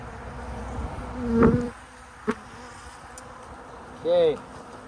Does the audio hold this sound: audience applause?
no